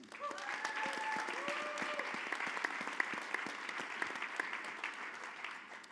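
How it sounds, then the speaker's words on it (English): Steady applause from an audience at a music education conference, moderately loud and continuous, with a few brief voices and whistle-like tones ringing out over the clapping. "Please give her a round of applause."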